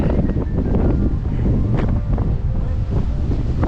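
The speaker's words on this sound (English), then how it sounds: "Windy maybe." Strong wind buffets the microphone in a steady low roar on a road trip at New Zealand's South Island southern tip, with gusty rumbling throughout and no voices.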